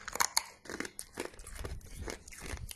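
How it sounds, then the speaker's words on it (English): Someone chews a humbug sweet up close, with crisp crunching bites at the start followed by softer, continuous mouth-chewing sounds, all alone without speech. "sorry, I'm chewing on a humbug."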